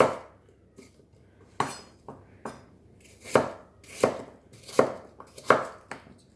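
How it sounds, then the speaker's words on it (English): Knife chopping apples into pieces on a cutting board, a series of about ten crisp, separate chops with uneven pauses, close and alone with no talking. "Turn them over, get rid of the cores, and then just dissect them."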